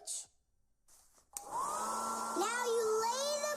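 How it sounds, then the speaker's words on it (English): Cartoon hair dryer switched on after a short pause, starting with a click and then whirring steadily with a rising whine, loud and close, with a ball caught in its airstream. "Here's the dryer."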